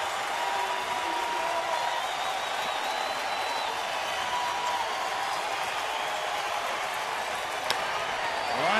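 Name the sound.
enthusiastic baseball crowd cheering and applauding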